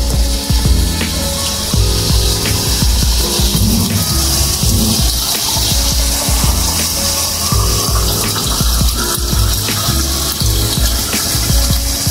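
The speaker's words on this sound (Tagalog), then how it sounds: "Palagyan natin ng tubig po. Pakuluin natin." Water gushes steadily into a cooking pot of sautéed bitter melon in one continuous, fairly loud fill, with soft background music underneath.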